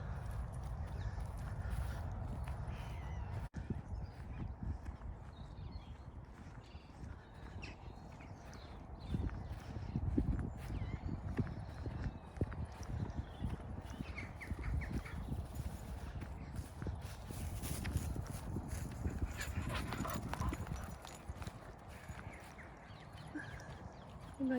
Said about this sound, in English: His little harness rattles when he runs past, and his collar sounds like a horse.